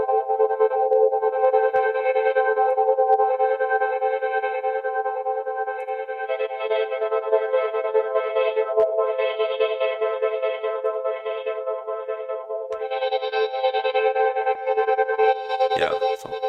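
Audio loop run through a gating effect plugin, producing a steady, processed tonal pattern with rhythmic chopped bursts layered on top, continuous and fairly loud throughout.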